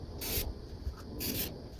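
An aerosol can of rubber coating sprays onto hand tool handles in two short hissing bursts about a second apart, close and clear, with quiet pauses between.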